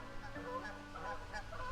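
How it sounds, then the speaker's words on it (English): Geese in a flock honk repeatedly while flying south in V formation, calls overlapping in a steady, fairly close chorus with no talk. "her eyes caught a flock of geese flying south in a perfect V formation"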